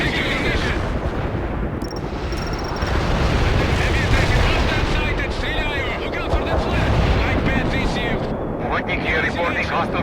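Dense, continuous battlefield din from the World in Conflict strategy game as units engage enemy tanks: rapid gunfire, booming artillery and explosions layered together, loud and unbroken, with radio-style voices talking over the combat.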